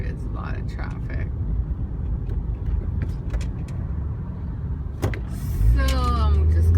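A low engine and road rumble fills the cabin of a car moving slowly in heavy traffic, with a few clicks and a whirring motor near the end as someone talks over it.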